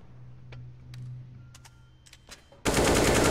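Sharp gunshot cracks in a video game spaced out over a low engine hum, ending in a sudden loud burst of sustained rapid fire that fills the sound.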